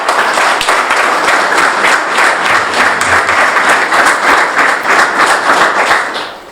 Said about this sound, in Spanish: Aplausos nuevamente para Marcos.